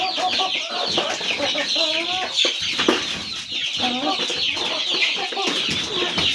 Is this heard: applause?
no